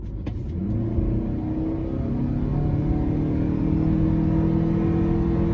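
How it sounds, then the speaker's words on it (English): 2021 Toyota hybrid SUV accelerating from a start, a steady, rising engine and motor drone with a whirring tone that swells after the first second and holds loud and close to the end. "we're going to give it a little bit of gas as is usual and see how it performs."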